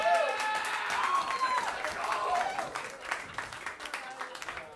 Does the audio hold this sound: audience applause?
yes